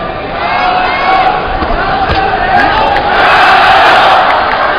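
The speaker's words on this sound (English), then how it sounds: "And the crowd's starting to come alive already for Shiming." A boxing arena crowd at a professional flyweight bout roars and cheers steadily, loud and continuous, with crowd noise swelling toward the end.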